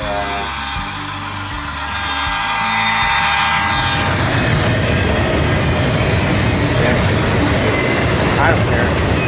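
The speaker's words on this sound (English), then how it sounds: "The action died down, so it was time for model trains." Model trains running on HO and O scale layouts, a steady loud rumbling and clattering roll that swells after the first few seconds and continues throughout, with people talking underneath.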